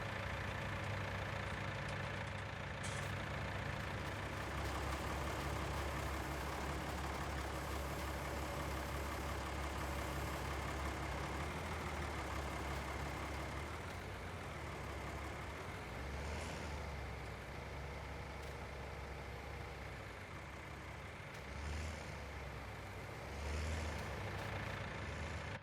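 A truck engine in the video game Farming Simulator 19 idles in a low, steady drone for a long stretch, with faint shifts in pitch. Quiet, with no speech.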